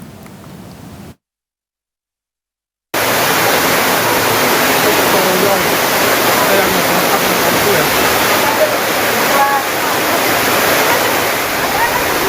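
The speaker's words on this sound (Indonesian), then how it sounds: "Video amatir merekam hujan deras yang terjadi di wilayah Buleleng, Bali sejak siang hingga sore hari menyebabkan terjadinya banjir." Heavy rain and rushing floodwater in Buleleng, Bali form a loud, steady, dense roar that cuts out briefly near the start, then continues unbroken.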